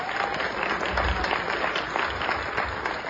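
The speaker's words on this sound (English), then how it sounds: "Ladies and gentlemen, how about a round of applause for Sean Alvin on my right?" Audience applause at a live vocal music show, a dense, steady round of clapping from a crowd filling the room, fairly loud with light low thumps mixed in.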